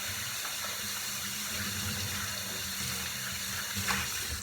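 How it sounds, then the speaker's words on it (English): Tap water runs steadily into a sink, rinsing OxyClean off a vintage snapback hat, with a constant close splashing hiss and slight shifts as the hat moves under the stream. "Rinse off all the OxyClean I got on there."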